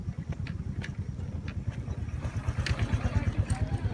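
A motorcycle engine putters at a low, uneven idle nearby, its rhythmic thrum steady throughout, with faint voices in the background.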